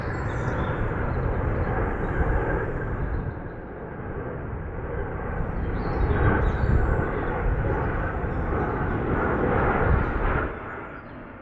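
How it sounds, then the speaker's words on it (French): A steady broadband roar of an airplane passing at a distance behind trees near a village outside Paris, swelling slightly midway and fading near the end, with outdoor background. "il y a un avion qui passe juste à côté"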